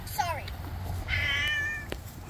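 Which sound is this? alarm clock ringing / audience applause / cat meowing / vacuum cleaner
cat meowing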